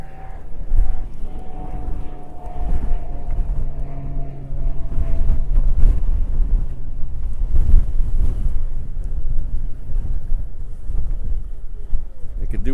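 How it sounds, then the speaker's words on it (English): Outdoor wind buffets the microphone in steady low rumbling gusts beside an airfield in Hawaii during a fighter jet exercise, with a faint droning engine tone early on and no clear talk. "I could do without this wind."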